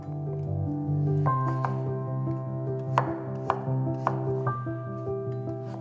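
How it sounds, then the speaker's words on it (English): A knife cuts peeled potatoes into cubes on a board, giving a quiet run of crisp, uneven chopping strokes with a few sharper knocks and no talking. "Chop the potatoes into cubes."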